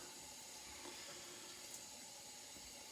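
Water running into a tub of foamy shaving soap, a steady soft trickling hiss with faint splashes, close and continuous with no talking.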